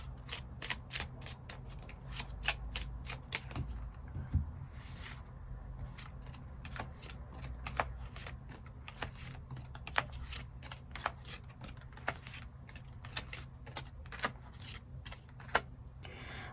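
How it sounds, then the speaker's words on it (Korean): Tarot cards being shuffled and drawn, heard as a long run of soft riffling and sharp snapping card flicks at an uneven rhythm, close but fairly quiet, with no talking. "그럼 이번 분들 추가 카드로 일별로 월요일부터 일요일까지 어떤 하루하루를 보내게 될지 추가 카드 뽑아보도록 하겠습니다."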